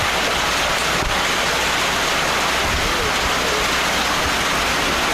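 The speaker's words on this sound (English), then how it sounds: "Rain was in the forecast for tonight. I'm starting to see it fall." Rain beginning to fall over an outdoor American Legion baseball game, a steady broadband hiss of drops spread evenly across the field with no clear individual impacts, continuous throughout.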